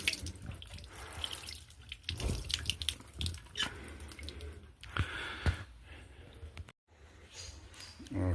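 Plants washed under a running tap, with water splashing and dripping unevenly as the leaves are handled close by, interrupted by a short gap near the end.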